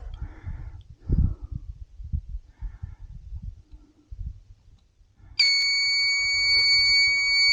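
After some quiet low knocks and handling noises, a squealer alarm on a timer-triggered spring gate release for livestock starts suddenly and keeps up a loud, steady, piercing electronic tone to the end.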